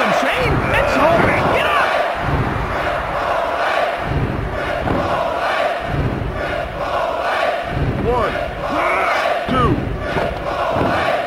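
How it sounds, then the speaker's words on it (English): A packed wrestling arena crowd roars and cheers continuously at a tag team match, loud and dense throughout, with thuds from the ring and commentators talking over the noise. "This crowd is electric. Everyone's up."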